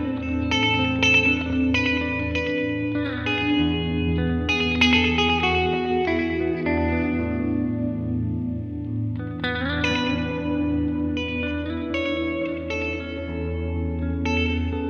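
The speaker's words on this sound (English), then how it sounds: "So, say we want to set up some crazy big reverb and delay" Guitar processed through a Great Eastern FX XO crossover with a huge reverb and delay, sustained chords and picked notes washing into long, echoing tails that stay loud and dense throughout.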